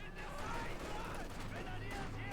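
Dense gunfire from the Company of Heroes 2 video game, a rapid crackle of shots under continuous commentary.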